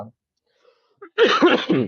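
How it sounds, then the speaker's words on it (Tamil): A short, close cough or throat-clearing bursts out after a near-silent pause, with a brief vocal sound at the very start. "இருமல் வந்துருச்சு"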